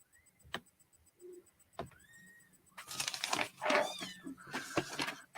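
A cat meows several times, faint rising calls at first, then louder, close meows mixed with rustling and background clatter.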